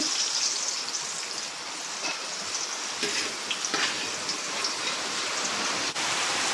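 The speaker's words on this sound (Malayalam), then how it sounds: "വെളിയിൽ നല്ല മഴയും കാറ്റും" Steady heavy rain and wind outside patter and hiss without letup, with occasional soft knocks and clicks nearby.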